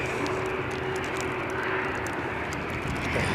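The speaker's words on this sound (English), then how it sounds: "It's a short departing Aer Lingus." An Aer Lingus airliner departing Edinburgh airport on a wet day with strong crosswind gusts, its engine roar a steady, broad rumble that holds throughout without talk.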